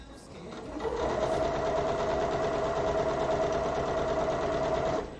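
A sewing machine stitches quilt pieces for a rainbow hexagon baby quilt in a steady, rapid whirring run of about four seconds. It starts after a brief pause, stays close and loud, and ends abruptly.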